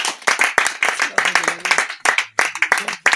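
A church congregation at a servant consecration service in Garoua, Cameroon, clapping in quick rhythmic bursts, close and lively, with voices mixed in among the claps.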